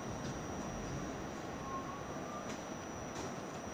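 Steady rumble of an R68A G subway train riding through the tunnel in daytime, a continuous loud roar of wheels on rails with a faint high whine and brief rattles, no talking.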